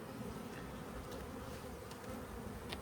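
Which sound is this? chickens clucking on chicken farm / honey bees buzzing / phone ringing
honey bees buzzing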